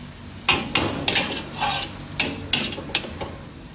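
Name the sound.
sautéing food in a pan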